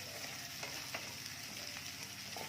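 Onions fry in a pan with a faint, even sizzle and a few soft stirring clicks, quiet and brief with no voices.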